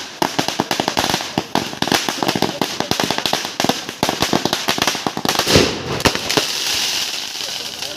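Firecrackers burst in rapid, dense volleys outside a groom's house during a wedding procession, loud sharp cracks rattling on continuously with a brief heavier boom near the end.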